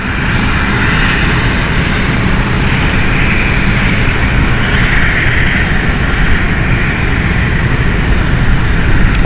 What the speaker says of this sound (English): So this is our Dash 8 going off to Luxembourg with Luxair.